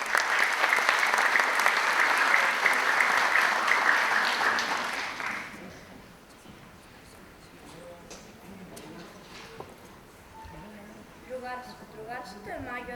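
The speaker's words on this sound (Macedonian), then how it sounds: "Да ги поздравиме со аплауз." Audience applause for primary school pupils about to recite and act at a children's book promotion in Veles, loud sustained clapping for about five seconds that fades out, followed by quieter room sounds and soft voices.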